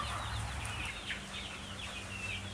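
Little chicks in a brooder chirp and cluck in quick, high peeps scattered throughout, moderately close over a constant low background hum.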